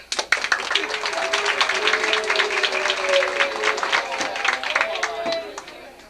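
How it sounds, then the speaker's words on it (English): At a 1986 talent show in Rehoboth, an audience breaks into warm applause that swells quickly, with crowd voices and cheers running under the brisk clapping before it tapers off. "Let's give a warm round of applause to Becky and Mitch."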